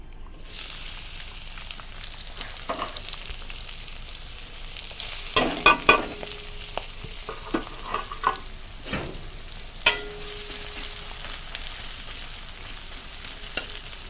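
Chopped onions sizzle in a pan with a quiet, continuous frying hiss, marked by several sharp scrapes and clatters of stirring.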